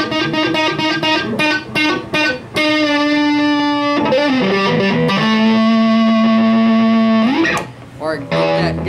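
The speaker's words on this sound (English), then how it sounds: "And then you also have your overdrive channel." An electric guitar plays through the overdrive channel of an amplifier, giving distorted sustained chords and notes that ring out loudly and close, with a short pause near the end.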